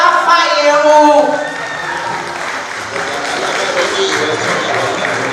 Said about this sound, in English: Please put your hands together for Adiola Fayero.